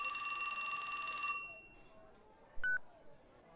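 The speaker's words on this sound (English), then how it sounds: "His phone rang." Phone ringing in the video game 428: Shibuya Scramble, a steady electronic ring tone for over a second that fades out, then a short single beep, faint and without talk.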